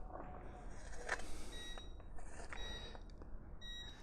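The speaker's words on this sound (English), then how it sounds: "That is an ice maker" A tabletop ice maker beeps in an aircraft hangar, giving a few short, faint electronic tones in the background over a low ambient rumble.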